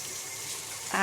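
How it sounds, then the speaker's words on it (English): Hands are rinsed under a running kitchen tap, a soft steady hiss of flowing water that swells slightly louder at the very end, with no talk. "All right, rinsing my hands off."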